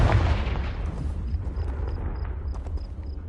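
Confringo fire spell blast in the Hogwarts Legacy video game: a loud booming burst with a crackling, rumbling decay, followed by a series of faint high repeating tones.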